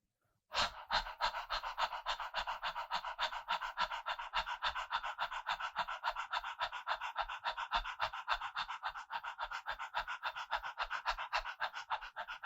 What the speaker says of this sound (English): opening up the mouth and basically panting